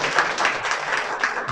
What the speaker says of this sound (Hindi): सभी एक बार जोरदार ताली बजाएं।